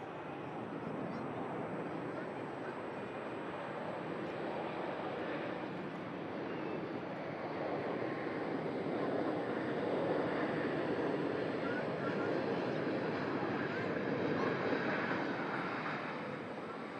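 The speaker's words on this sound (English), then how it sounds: "EasyJet begins to climb out." An EasyJet airliner climbs out after takeoff, a broad, steady jet roar that swells slightly and holds, heard from a distance with wind-like rumble and no talk.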